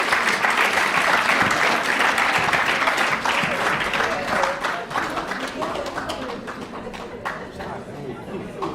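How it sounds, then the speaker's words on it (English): Audience applause fills a lecture hall after a university debate between LSE and Cambridge at an Africa summit, a dense steady clapping that holds loud for several seconds and then thins and fades slightly toward the end. "Everybody give a round of applause."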